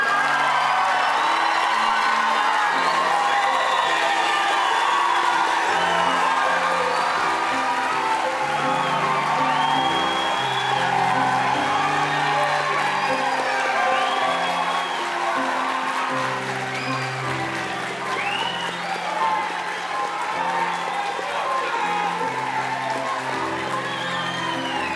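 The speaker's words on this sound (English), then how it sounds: "You may applaud." A crowd at a nursing candle lighting ceremony claps, cheers and whoops for the graduating class, loud and sustained throughout, with shouts and voices rising over the continuous applause.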